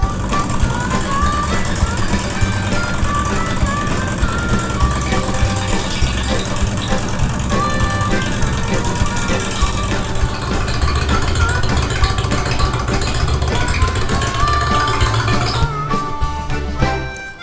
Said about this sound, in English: start the engine and make sure the wheel is rotating when it's being pulled by the engine